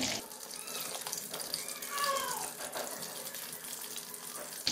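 Chicken pieces for a Mongolian chicken stir fry sizzle steadily in hot oil, a continuous, fairly close crackling hiss with no talking over it.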